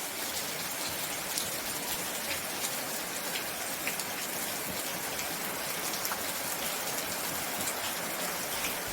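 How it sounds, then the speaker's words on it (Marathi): Heavy rain pours steadily outdoors on a morning, a dense continuous hiss of drops striking surfaces with no voices, constant and close throughout. "पाठपासूनच आज पाऊस चालू झालेला आहे"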